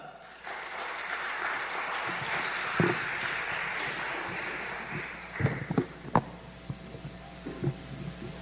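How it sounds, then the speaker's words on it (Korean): A church congregation at a New Year special revival meeting applauds to welcome the pastor, a dense, even wash of clapping for several seconds that fades into scattered thumps and a few isolated claps. "우리 목사님 나오실 때 박수로 환영하겠습니다."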